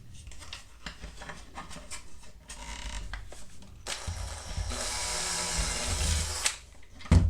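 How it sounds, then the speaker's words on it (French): A power drill bores holes into parts of a Bruder Cat toy telehandler conversion kit, with intermittent clicks and handling noise before a sustained, close whining drill run builds and holds. "Et là, on va percer ici."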